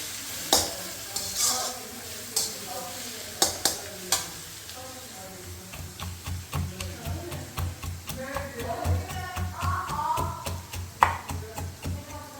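Onions fry in a pan for a bitter gourd dish, a soft continuous sizzle punctuated by sharp clinks of stirring against the pan, with quiet speech in the background.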